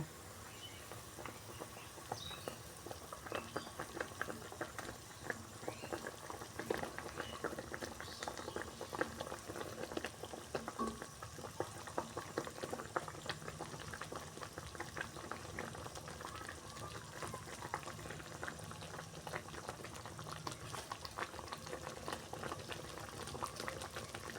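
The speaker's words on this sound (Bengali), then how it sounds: "এবার আমি এটাকে 2 মিনিট সিদ্ধ করে নেব।" Eggplant pieces boiling in a pot of water, a faint continuous bubbling and popping simmer that stays steady throughout with no talking.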